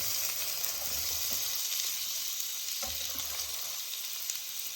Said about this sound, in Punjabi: ਤੇਲ ਆਪਣਾ ਗਰਮ ਹੋ ਗਿਆ ਆਪਾਂ ਇਸ ਪਾਵਾਂਗੇ ਪਿਆਜ਼